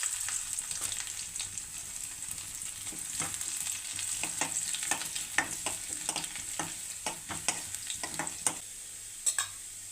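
Garlic and ginger sizzle in a hot pan, a continuous close frying hiss broken by frequent sharp clicks of stirring and spatula scrapes, with no voices.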